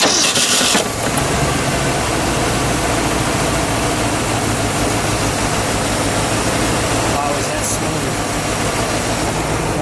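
The engine of a 1963 Ford Mustang II concept prototype convertible turns over and settles into a loud, steady, rumbling idle that runs continuously, with a brief higher whine near the end.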